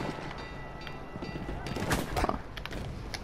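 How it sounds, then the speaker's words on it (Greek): A train rumbles through a chaotic online match of the video game Battlefield 1, mixed with bursts of gunfire and explosions. The din stays dense and steady throughout, with sharper blasts near the middle. "Έχει και τρένο."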